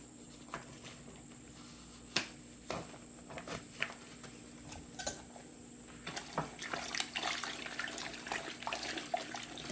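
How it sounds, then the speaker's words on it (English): A knitted bag is worked by hand in hot water for felting, giving soft irregular sloshes and splashes that grow busier toward the end, close and fairly quiet. "So I'm going to agitate some more."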